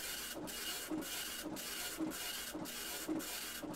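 An Apple ImageWriter II dot-matrix printer runs its built-in self-diagnostic test, its print head buzzing in steady repeated passes about every half second, with a close, continuous mechanical rasp and no talking.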